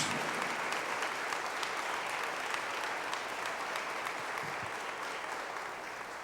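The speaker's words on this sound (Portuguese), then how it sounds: "dê um forte aplauso ao nome do Senhor Jesus" A church congregation gives a strong, sustained round of applause, dense steady clapping from a large crowd that fills the room evenly at a moderate distance.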